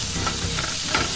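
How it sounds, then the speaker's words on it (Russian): Onions frying in a pan are stirred, a continuous close sizzle with brief scraping strokes of the stirring utensil, loud and without any talking. "Слегка перемешаем"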